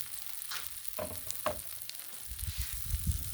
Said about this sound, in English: And we'll add some ghee to the rings.